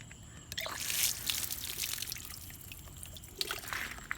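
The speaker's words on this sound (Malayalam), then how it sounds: "ഇതിങ്ങനെ പൈപ്പിൽ കുറച്ചും കൂടി വെള്ളം എടുത്തിട്ട്" Water being poured into a pipe, a soft continuous trickle and splash with faint drips, fairly quiet and close.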